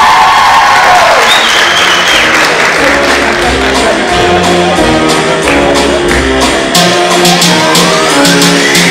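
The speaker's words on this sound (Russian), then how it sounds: "Ваши аплодисменты, друзья." Big crowd applauding at a KVN comedy league show in Khasavyurt, loud sustained clapping with shouts and whoops mixed in, steady from start to finish.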